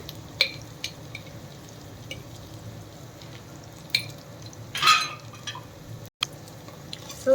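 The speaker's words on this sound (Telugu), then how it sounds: "దీన్ని కూడా ఇలా ఒక నిమిషం పాటు కలుపుతున్నాము" Ginger garlic paste is stirred in a pan for mushroom biryani, with a low steady sizzle under scattered spoon scrapes and clinks against the pan.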